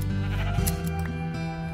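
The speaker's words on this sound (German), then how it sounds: "Ach, da sind noch ein paar Schäfchen." Several sheep bleat in the blocky survival game Minecraft, their wavering cries overlapping at close range over a steady background hum, with no talking.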